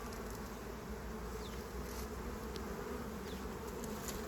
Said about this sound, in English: you're going to have clouds of bees behind you